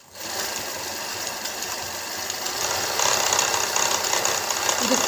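An embroidery sewing machine runs at full speed, a loud, dense buzzing whir that starts abruptly, holds steady, then grows a little louder partway through.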